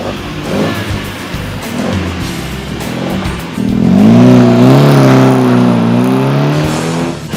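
A classic rally car at the start of a regularity rally idles and rumbles, then revs hard with a rising, sustained engine note as it pulls away, loud and close.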